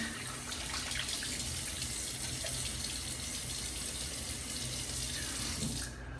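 A bathroom tap running into a sink as a face is wetted for a shave, a steady close splashing stream of water that continues unbroken and stops abruptly near the end, with no talking.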